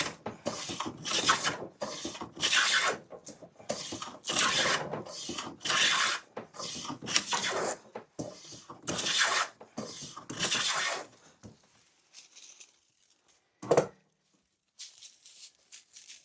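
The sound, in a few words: vintage woodworking hand plane shaving wood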